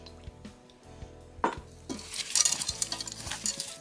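A utensil stirs a marinade of rosemary, salt, black pepper, lemon zest, crushed garlic and vegetable oil in a bowl. A single knock comes first, then a busy stretch of wet mixing with clinks against the dish, close up.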